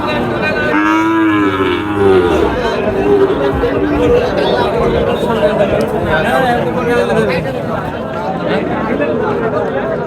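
Cattle, including young bulls, low loudly near the start amid a busy crowd's chatter at Choubaria cattle market in Naogaon, with more moos mixed into the noisy din.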